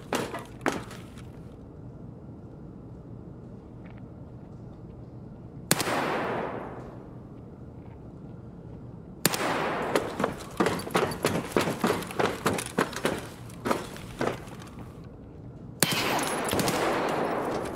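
AKS-74U rifle fire in Escape from Tarkov: a few isolated shots early, then a rapid run of sharp, loud bursts in the middle and a final shot near the end, with quiet stretches between.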